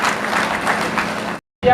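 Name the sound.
audience applause welcoming a guest at a party meeting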